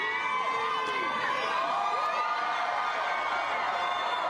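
A large crowd at a Depeche Mode day celebration in Los Angeles cheers and shouts continuously, a dense distant roar with scattered whoops and high voices rising above it throughout.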